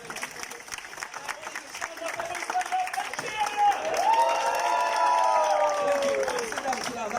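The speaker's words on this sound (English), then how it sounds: "Everyone start clapping." A comedy club audience claps in a steady patter that builds and thickens into fuller applause, with cheering voices rising over it.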